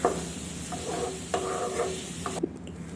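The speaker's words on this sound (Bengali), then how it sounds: "এবার কিন্তু একটু ভালোভাবে নাড়িয়ে নিচ্ছি" Tomatoes, onions and spices frying in a pan for egg masala are stirred with a utensil, giving a soft sizzle with a few scraping strokes, before the sound cuts off abruptly near the end.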